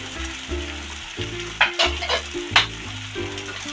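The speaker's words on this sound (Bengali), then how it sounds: "এবার সমস্ত মশলা ভালো করে কষিয়ে নেব একদম।" Spices for a fish egg curry, including coriander powder, turmeric and chili powder, fry in a pan with a steady sizzle, broken by a few scraping stirs of a spoon, with a low music bed underneath.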